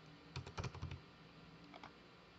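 Quick clicking keystrokes on a computer keyboard, a short burst of several taps followed by two more a moment later, close and fairly quiet.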